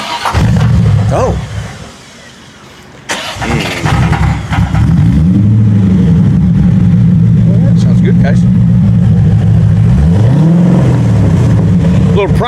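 A Corvette with a Borla exhaust revving: loud throaty blips, a brief drop to near idle, then repeated rising and falling revs that sustain a deep rumble, with a short exclamation from a person.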